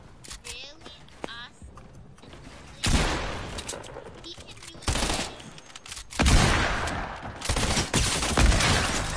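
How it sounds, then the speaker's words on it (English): Bursts of submachine-gun fire in a mobile shooter game, loud sharp volleys starting around three seconds in and recurring in clusters, with quieter clicks and movement noises between them and a voice talking over parts of it. "What kind of SMG is that? Burst SMG?"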